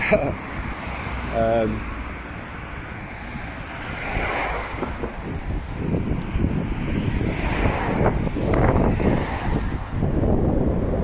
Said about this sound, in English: Very breezy now. Blow my hood up.